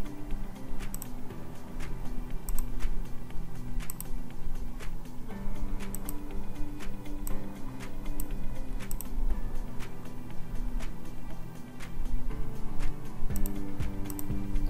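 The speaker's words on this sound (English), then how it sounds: "For suppose I'm typing here welcome." Sparse, irregular keyboard clicks from typing on a computer keyboard, set against steady background music with no talking.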